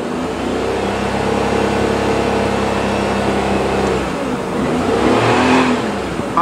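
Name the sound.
Daihatsu Mira Avy car engine revving with accelerator pressed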